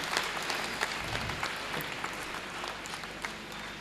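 Audience applause at a Hindi kavi sammelan poetry gathering held for a spiritual leader's birthday celebration, a steady wash of clapping sustained throughout with no voices over it.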